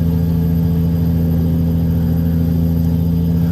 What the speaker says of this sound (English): Oh, look, it's a pickup truck with a massive exhaust.